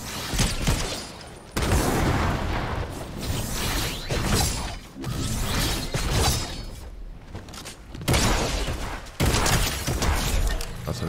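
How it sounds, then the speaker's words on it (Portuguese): Barrett sniper rifle shots in a shooting video game, several sharp, loud blasts with long echoing decays, spaced a second or two apart, mixed with mechanical clicks and clatter. "Tem alguém atirando de barret."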